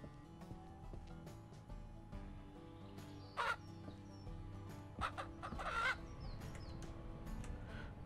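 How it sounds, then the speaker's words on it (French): In the farming video game Ranch Simulator, a rooster crows twice amid occasional chicken clucks over a low droning game ambience. "J'adore le chant du coq."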